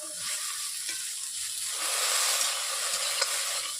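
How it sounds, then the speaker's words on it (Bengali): Okra (bhindi) sizzles steadily in a hot pan while being stirred, a close, continuous hiss with soft scraping that swells louder midway, no voices. "এরপর খুলে নিয়ে আমি এইভাবে নেড়ে দিচ্ছি ভেন্ডিগুলো"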